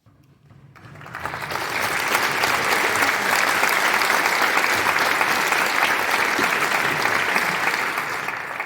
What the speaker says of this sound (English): please stand so we can applaud your work